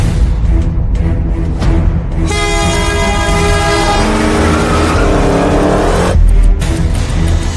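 Two Hemi-powered cars, a Hemi Gasser and a Hemi Super Bee, roar loudly down an organized street course lined with cones and guardrails, one engine sweeping up through a rising, howling rev.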